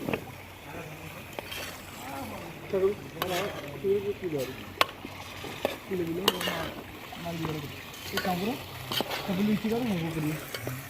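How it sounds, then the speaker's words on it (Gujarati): Chicken being stirred in masala with a wooden stick while frying in a pot: repeated scraping and knocking strokes over a soft sizzle, close by, with someone talking throughout. "હવે હલાવીશું આને ચિકનને મસ્ત રીતે મસાલામાં"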